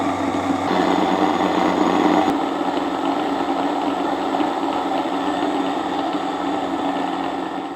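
A machine spins freshly milled, very fine flour in a bowl, giving a loud, steady motor whir that holds throughout, with a slight shift in tone early on.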